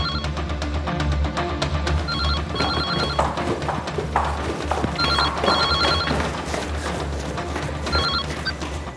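A telephone rings in bursts of repeated bell tones, three rings spaced a few seconds apart, set against a busy, loud background score in a Hindi crime drama.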